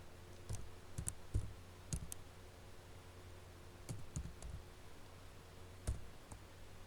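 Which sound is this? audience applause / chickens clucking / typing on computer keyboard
typing on computer keyboard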